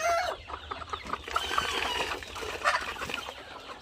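Several laying hens cluck and chatter close by in a busy, continuous murmur while feeding in a shed, with occasional sharper calls rising above the flock.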